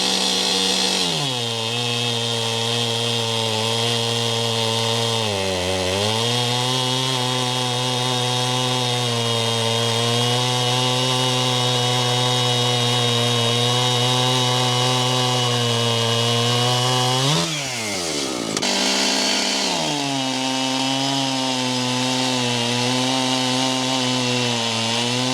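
An Echo CS 7310 SX chainsaw fitted with a short bar runs loud and steady near the listener, its engine whine dipping briefly twice as it bogs and recovers.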